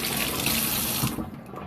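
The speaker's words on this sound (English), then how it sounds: "let me just give my hands a rinse" A kitchen faucet runs steadily as hands are rinsed under it, a close, loud rush of water that cuts off after about a second, leaving only faint dripping.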